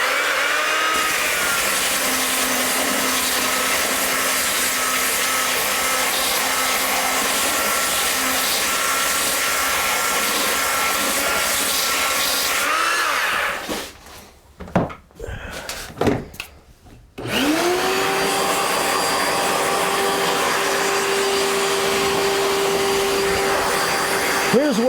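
Wood being power sanded with 80-grit paper in a workshop, a loud continuous whirring drone that cuts out partway through with a few knocks and scrapes, then starts up again just as steady, close and with no talking.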